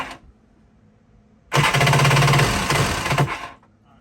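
A cold jet ski engine with a worn starter Bendix cranks after a short silence, a loud churning, rattling starter-and-engine burst lasting about two seconds before cutting off.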